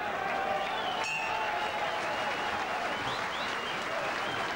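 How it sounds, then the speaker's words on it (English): A dinner-jacketed boxing crowd at the St Andrews Sporting Club, held at the Forte Crest Hotel, applauds the fighters steadily, a dense even patter of clapping heard from a distance with no break. "the St Andrews Sporting Club dinner jacket and crowd here at the 40 Crest Hotel give them a tremendous round of applause"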